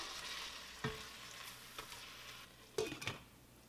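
Chop suey with chicken frying in a pan gives a faint, steady sizzle, broken by a few distinct scrapes and knocks of a utensil as it is stirred, close by.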